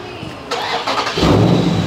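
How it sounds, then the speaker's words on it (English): A car engine cranks and catches in a Houston street, the starter whirring and then the motor rising to a louder, rougher rumble, close and alone without talk. "the car ain't even get to start up"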